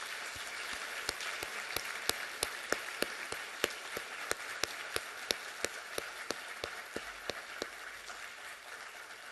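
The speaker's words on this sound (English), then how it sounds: "a great big round of applause for our newly inducted Golden Horseshoe winners" Steady applause from a crowd at an awards ceremony, many hands clapping with sharp individual claps standing out over a continuous patter, no voices.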